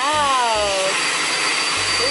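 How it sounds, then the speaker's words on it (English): A household vacuum cleaner runs steadily and loudly from start to finish. A broadband roar fills the room, with a voice talking faintly beneath it. "I hear the vacuum"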